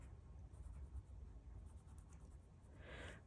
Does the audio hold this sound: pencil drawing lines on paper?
yes